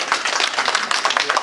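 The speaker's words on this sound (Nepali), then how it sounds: "ताली हालिदिनुहोस् प्लिज" Audience clapping at a Nepali literary program, brief, dense bursts of hands in a hall, fairly close and steady for a moment.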